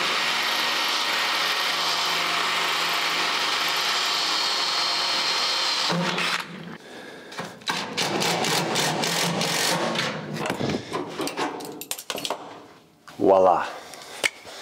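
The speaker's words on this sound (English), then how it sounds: "I need to pre-drill a hole through this thick material, this pinch weld here" Pre-drilling a hole through the thick pinch weld of a 1951 Ford body with a power drill: a sustained loud whine for several seconds, followed by scraping, rattling and handling noises, with someone talking.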